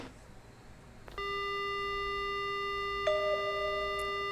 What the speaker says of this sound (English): The only sound I hear is the dial tone.